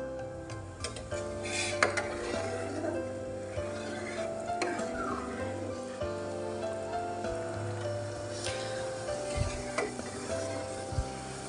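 A spoon stirring food around a pan, with scraping and occasional clinks of metal against the pan over a continuous low sizzle, close by and moderately quiet, with no speech.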